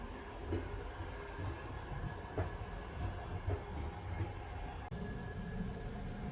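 A sleeper train bound for Bukhara, Uzbekistan, heard from inside the carriage as a continuous low rumble with occasional clacks and knocks from the rails, steady and moderately quiet.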